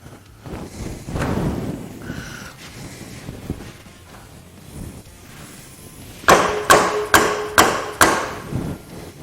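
Valves being lapped into the head of a Chevy 4.3 engine: soft rubbing and scattered knocks give way to five sharp, evenly spaced taps close by.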